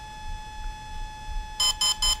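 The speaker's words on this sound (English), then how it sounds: "You heard one beep, now two beeps," An Exeed RC Proton/Volcano electronic speed controller runs its setup sequence: after a stretch of quiet electronic hum, three short, sharp beeps sound in quick, even succession, close and clear with no talking.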